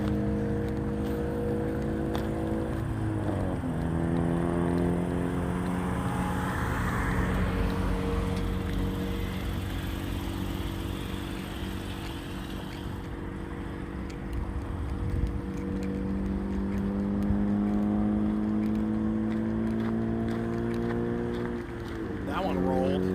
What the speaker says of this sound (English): Oh, listen to that turbo whine.